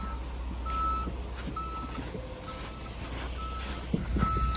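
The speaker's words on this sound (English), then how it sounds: "We're boondocking with the dump truck." A dump truck's reversing alarm beeps in long, evenly spaced tones over a steady low engine rumble, with a few clunks near the end.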